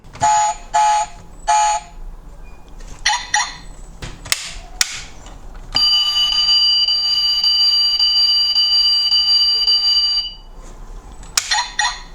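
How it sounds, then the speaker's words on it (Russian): A toy Mercedes or Toyota model car's electronic alarm siren sounds in short bursts, then holds a long steady wailing tone for several seconds, with clicks and handling noises between. "Причем звук сигнализации в Mercedes и в Toyota одинаковый."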